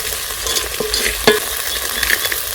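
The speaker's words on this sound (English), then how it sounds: "I'll add my omena." Omena fish fry with soft tomatoes in a pot, a close, steady sizzle broken by scraping stirs and a few crackles, with no talking.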